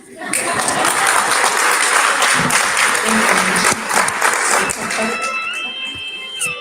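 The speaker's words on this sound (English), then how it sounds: "you have to clap for me very strong" Loud, sustained applause from a crowd at a breakfast meeting in a hotel in Juba fills the room for several seconds, gradually thinning toward the end with a few scattered claps.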